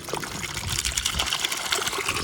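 Water gushes and splashes steadily into a bucket, a continuous close-up pouring sound.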